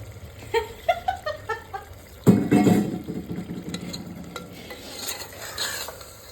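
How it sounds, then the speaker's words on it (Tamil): Prawns stirred into a hot pan on a stove, with metal spoon scrapes and clinks at first, then a loud burst of sizzling as they hit the oil, settling into steady frying with intermittent stirring clatter. "ஸோ இப்போ ப்ரான்ஸ் எல்லாம் நாங்கள் உள்ளே ஆட் பண்ணுறோம்."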